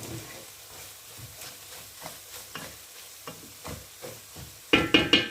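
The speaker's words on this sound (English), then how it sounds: "My spices all are cooking." Spices for a red fish curry sizzle in a pan with a soft, continuous fry, while a spoon stirs and scrapes in regular strokes. A few louder knocks against the pan come near the end.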